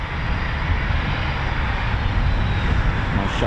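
A Eurofighter Typhoon FGR4 jet engine roars loudly and steadily at close range during shutdown, a broad continuous rush with no voices.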